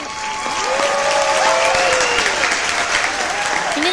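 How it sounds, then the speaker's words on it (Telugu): Audience at a comedy festival stage show bursts into loud, sustained applause and cheering, a thick wash of clapping that swells and holds, with a few voices and music tones faintly rising through it. "చప్పట్లు."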